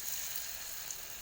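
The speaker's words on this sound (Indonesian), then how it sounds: "Nah sekarang akan kita goreng bakwannya teman-teman." Bakwan vegetable fritters frying in hot oil in a home kitchen: a steady, even hiss and crackle of sizzling that holds constant throughout, with no voices.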